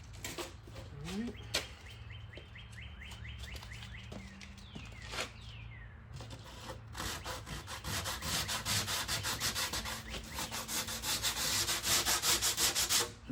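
Steady back-and-forth hand sanding of a dent-repaired panel with sandpaper, rasping close by and growing louder and faster toward the end, with a few light knocks.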